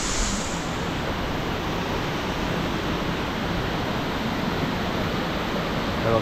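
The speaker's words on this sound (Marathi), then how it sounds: "आणि ह्यो धबधबा आपल्या कुपवडे गावात" Waterfall in the forest near Kupwade village, a steady, dense rushing roar of falling water filling the whole stretch without a break, close and continuous.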